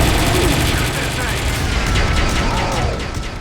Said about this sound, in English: Gonna see if I can do this with a minigun.